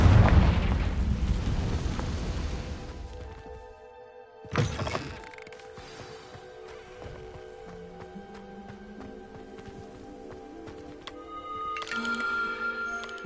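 A Confringo blasting-spell explosion in Hogwarts Legacy, a loud rumbling blast at the start that fades, then a sharp crack and ringing, shimmering magical tones that linger.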